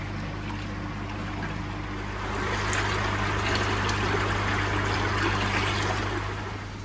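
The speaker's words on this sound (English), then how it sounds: "So I'm just going to give this a quick hose out" Water from a hose gushing into a koi pond container to rinse out light build-up, a steady close splashing rush that swells louder midway and stays continuous, with a low hum beneath.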